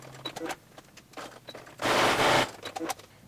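A sewing machine runs a 3/8 inch seam on a dog bow tie, giving a short loud buzzing run after scattered clicks and fabric handling.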